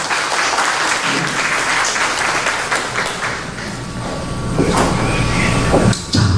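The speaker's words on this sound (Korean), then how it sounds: "여러분들 공감하시면 박수 한번 부탁드리겠습니다" Loud, sustained audience applause fills a Rotary club lecture hall, steady and dense throughout, swelling slightly toward the end with no talk over it.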